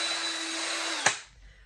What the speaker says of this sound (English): if you have a lot of concrete to mix, then you can mix with a drill